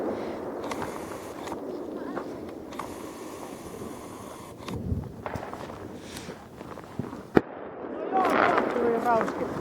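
New Year's Eve fireworks in Finland going off outdoors: scattered distant bangs and crackles over a steady background rumble, one sharp close report, then a crackling burst near the end, with people talking.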